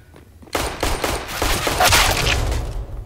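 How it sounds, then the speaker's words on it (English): Dense gunfire from the CS:GO video game: a long, loud fusillade of overlapping shots that bursts in after a brief quieter lead-in and keeps rattling without pause. "Firing, guys."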